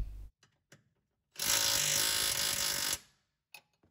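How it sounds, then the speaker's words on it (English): A pneumatic impact gun tightens a bolt on a Saab 9-3 front control arm in one loud burst of rapid hammering for about a second and a half, with faint clicks before and after. "here I'm using my calibrated torque wrench / impact gun"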